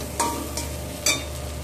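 Poppy seed paste being stirred and fried in a pan for prawn posta, with a steady low sizzle and a few scraping stirs of the spatula close by, no voices.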